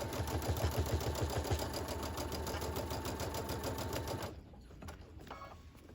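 A sewing machine runs steadily, stitching long quilt seams with a fast rhythmic whir and needle chatter, close by, then stops abruptly near the end, leaving quiet handling noises.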